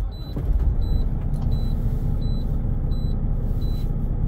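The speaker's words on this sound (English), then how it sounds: "I'm gonna start my vehicle up" A truck's engine cranks and settles into a steady loud idle during a pretrip inspection, with a low rumble throughout and repeated high electronic warning beeps over it.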